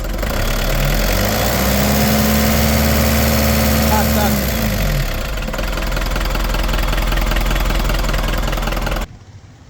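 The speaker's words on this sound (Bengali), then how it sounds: "গাড়িটা স্টার্ট করেন খুবই সুন্দর সাউন্ড আছে" A Tata four-cylinder diesel pickup engine idles steadily with a low, even rumble and a faint knocking texture, close by, before cutting off near the end.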